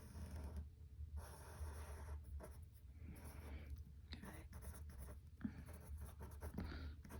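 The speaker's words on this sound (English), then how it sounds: "I was drawing the triangle for you as a reference" Pen drawing a triangle on paper during a math lesson: steady scratchy strokes come in several separate runs with brief pauses between them, close and fairly faint.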